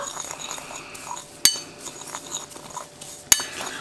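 A spoon stirs dried parsley, garlic powder and salt together in a bowl, giving two sharp clinks against the rim among soft scraping and rustling, close and alone.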